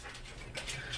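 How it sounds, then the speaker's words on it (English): A pet dog whimpers and pants indoors, a soft, high, wavering whine that rises in the second half, close and moderately quiet against a steady low hum. "and my whiny dog"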